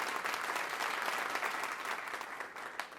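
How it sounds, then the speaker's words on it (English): A round of applause plays as a sound effect: dense, steady clapping that runs for the full three seconds at an even level, with no voices on top. "I just have to give him a round of applause for that"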